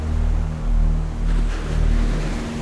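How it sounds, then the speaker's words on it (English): Ocean waves breaking on a shore beyond sand dunes, a steady loud wash of surf with swelling surges, heard alone with a low drone underneath. "the sound of crashing waves reminding you there is no turning back"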